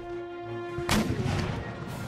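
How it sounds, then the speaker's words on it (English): Canister shot artillery fire in the video game Empire Total War: a sharp, loud blast erupts partway through after a steady tonal hum, followed by a crackling, rumbling tail of scattered impacts. "And a blast, a canister shot."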